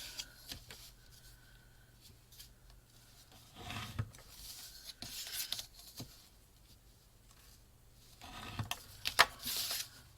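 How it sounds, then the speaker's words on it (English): A bone folder drawn along a ruler to score paper for a journal pocket template, heard as quiet scraping strokes, with two louder rubbing passes alone and no talk. "with a bone folder and my ruler, I'm just going to line the notches top and bottom and score another line all the way down."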